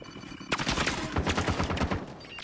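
Rapid gunfire erupts in a shooter video game after a brief pause, a loud, dense burst of overlapping shots crackling for about two seconds close by.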